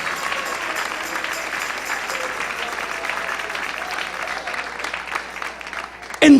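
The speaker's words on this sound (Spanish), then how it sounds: "Dale un aplauso al Rey en esta preciosa noche." A church congregation applauding during an evening service, a dense, steady wash of clapping from a large crowd, fairly loud and sustained, with a voice briefly heard over it near the end.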